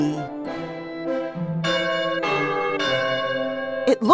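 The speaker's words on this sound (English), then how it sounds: "It is coming from a bell." A bell rung by pulling a string on it sounds a series of clear, resonant strikes one after another, each ringing tone overlapping the next, fairly loud and heard alone.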